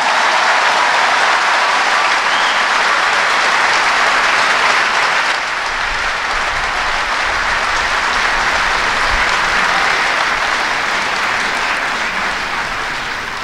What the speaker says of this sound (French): Applaudissez la croix de Jésus